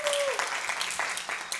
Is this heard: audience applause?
yes